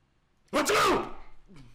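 One loud, close sneeze breaks a quiet moment, followed by a short trailing vocal sound.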